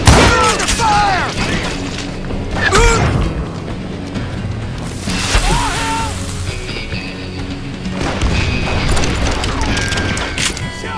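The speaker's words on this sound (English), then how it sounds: "Who's shooting at us? We're under fire!" Gunfire in the western shooter game Call of Juarez: Gunslinger: several heavy booming shots and crashing impacts rise out of a loud, busy mix, with shouted voices in between.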